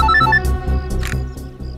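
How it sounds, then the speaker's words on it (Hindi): A ringtone with a rhythmic, repeating electronic pattern plays loudly for under two seconds, alone with no speech over it. "दया का फोन आ गया।"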